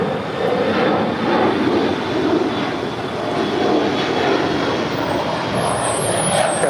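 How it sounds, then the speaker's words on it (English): A large Air Tahiti Nui Boeing 787 Dreamliner jet taxis at LAX, its engines giving a steady, loud broadband roar that holds even throughout with no pauses. "Air Tahiti Nui Dreamliner now starting her taxi."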